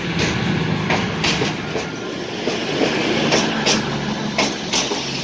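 A train hauled by two class 22 diesel locomotives heads to Edinburgh, with loud, steady rumbling rail noise and rhythmic clickety-clack of wheels over rail joints, passing close by without talk.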